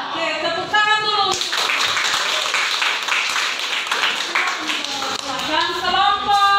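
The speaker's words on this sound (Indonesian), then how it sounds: "Oke, tepuk tangan dulu." A classroom of students claps hands together after a group finishes its presentation. The steady, busy applause lasts several seconds, with a voice speaking just before it starts and again as it dies away.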